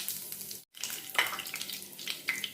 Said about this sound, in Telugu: ఆవాలు, మినప్పప్పు, పచ్చిపప్పు, జీలకర్ర వేగనిద్దాం.